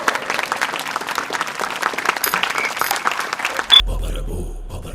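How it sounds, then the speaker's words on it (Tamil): Loud applause greets a dance troupe, dense clapping from a large crowd that runs for several seconds before cutting off abruptly into a low hum and quiet. "அர்ஜுன் நாடக மையம் பலத்த கரகோஷத்தோட வரவேற்போம்"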